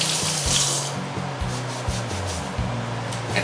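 A potato rinsed under running water and scrubbed with a Scotch-Brite dish scrubber, close rubbing and scraping strokes in an uneven rhythm over a gentle hiss of flowing water.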